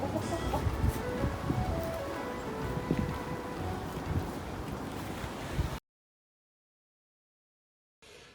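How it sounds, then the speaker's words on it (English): Chickens in a garden cluck and murmur over outdoor background noise for several seconds before the sound cuts to silence, with a short burst of ambience returning at the very end. "Very happy chickens in the garden."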